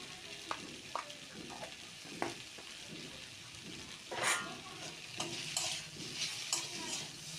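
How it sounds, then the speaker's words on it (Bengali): Potato and pointed gourd with onion, tomato and ground cumin stir-fried in a pan: quiet, repeated spatula scrapes and taps over a soft continuous sizzle, with no talking. "এরপর আবার নেড়ে চেড়ে কিছুটা কষিয়ে নেব।"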